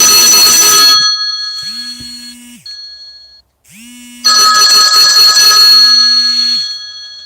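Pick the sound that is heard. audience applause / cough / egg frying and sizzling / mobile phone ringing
mobile phone ringing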